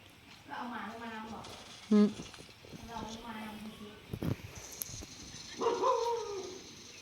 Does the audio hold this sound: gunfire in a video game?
no